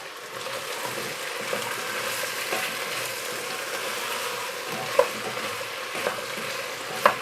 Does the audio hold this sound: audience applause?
no